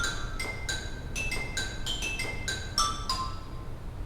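The xylophone rank of a 1924 Wurlitzer theatre organ in a St. Louis museum plays a quick run of bright, short struck notes about a dozen times, close and clear over a faint room hum.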